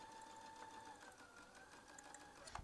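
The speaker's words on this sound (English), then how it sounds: "I'm just going to sew, step on the pedal," A Babylock Verve sewing machine stitches across a thick denim jeans hem, giving a steady, quiet mechanical whir with a faint rhythmic needle patter that stays even for a few seconds.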